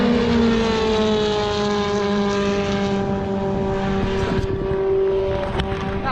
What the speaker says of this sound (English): A couple of F3 cars flat through there and a Formula Renault changing up through turn 1.